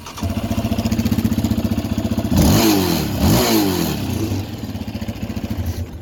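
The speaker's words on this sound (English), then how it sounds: "here's Jake's 2017 stock piped Raptor" A 2017 Yamaha Raptor ATV with its stock exhaust idles with a rapid, throbbing putter, then is revved hard twice in quick succession before settling back to a loping idle, loud and close.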